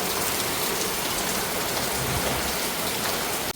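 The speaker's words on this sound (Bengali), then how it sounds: "এখনো বৃষ্টি" Steady rain falls without pause, a dense even hiss of drops on surfaces that stays constant throughout, with no voices.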